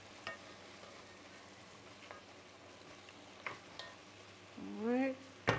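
Ground pork and lentils with sugar and smoked paprika stirred together in a pan, giving soft scraping and faint sizzling with a few light clinks, then a louder scrape near the end.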